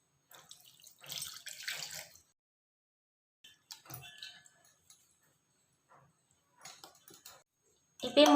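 Tap water runs intermittently over freshly made chhena being rinsed for homemade rasmalai in a home kitchen, coming in short splashy bursts with pauses between them and a louder clatter at the end.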